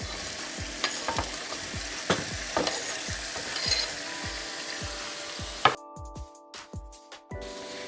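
Macaroni goes into a hot frying pan and is stirred, with a steady sizzle under repeated knocking scrapes of a utensil against the pan, then a louder clatter and quieter stirring toward the end.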